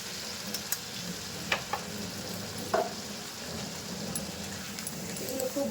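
Ground spices (turmeric, coriander-cumin powder and a homemade masala mix) are stirred and sautéed in a kadai, giving a soft continuous sizzle with a few sharp scrapes and clicks of the spoon against the pan.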